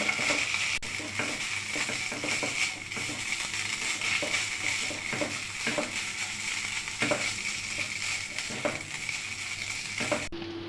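Tomato sauce and chopped green chili being stirred into a chicken mixture in a hot pan, giving a steady sizzle with repeated scraping strokes of a spoon throughout, close and fairly loud, no voices.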